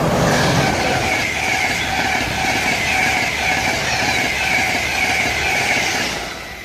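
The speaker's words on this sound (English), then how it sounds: "And now approaching the 225 set" An InterCity 225 set rolls into Peterborough station on the East Coast Main Line, a loud continuous rumble of wheels on rail with faint clickety-clack and a squealing tone, steady throughout and easing slightly at the end.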